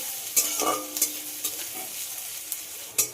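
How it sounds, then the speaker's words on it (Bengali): Chopped onion fries in hot oil with a constant bright sizzle, punctuated by several sharp spatula scrapes and taps against the pan at a moderate, uneven pace. "এই গরম তেলের মধ্যে দিয়ে দেব একটা বড় সাইজের পেঁয়াজ কুচি।"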